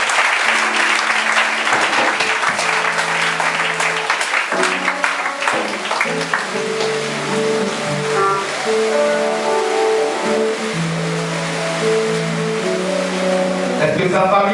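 A church congregation applauds at a prophetess's consecration with sustained, loud clapping and cheering, while music or singing runs underneath.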